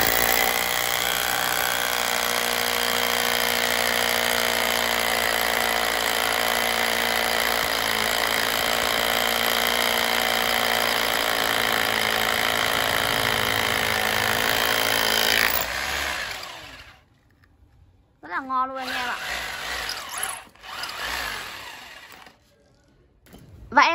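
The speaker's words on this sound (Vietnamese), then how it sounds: "Em sẽ test thử chức năng khoan bê tông với con Hukan K94 anh em nhá." A Hukan K94 rotary hammer drills into concrete with a loud, continuous grinding hammer for about fifteen seconds, then cuts out, leaving scattered handling clatter and brief bursts of someone talking.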